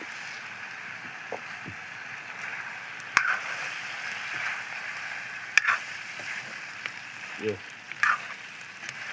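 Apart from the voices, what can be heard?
frying local chicken with cumin-garlic-chili paste and spices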